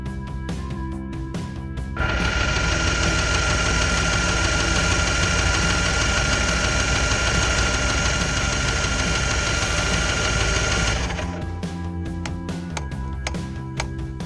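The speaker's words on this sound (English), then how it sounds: "In order to get the fuel system to prime quicker, I remove the spark plugs and crank the engine over." A Tigershark Daytona 1000 jet ski engine cranks over with its spark plugs removed, a steady loud whirring starter drone that runs for about nine seconds between quieter mechanical background noise.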